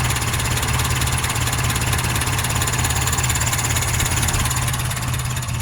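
Nissan 720 pickup engine fitted with a Weber DGAV 32/36 carburetor idling smoothly and steadily up close, a constant low rumble with even pulsing and no stalling.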